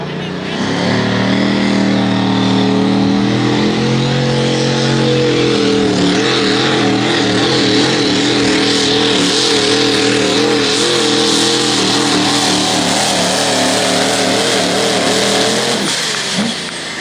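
Pro stock diesel truck at a truck pull in Monroe, Wisconsin, engine roaring loud and close, holding a sustained heavy rev with wavering pitch for most of the run before easing off near the end.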